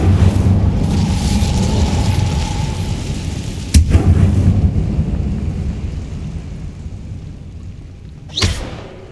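A fire spell cast in the video game Hogwarts Legacy, heard as a sustained rumbling, crackling roar with a sharp burst near four seconds and another flare close to the end, loud and close with no talk.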